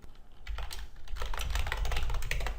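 Rapid clicking of a computer keyboard being typed on quickly, a close, dense patter of keystrokes with no talking.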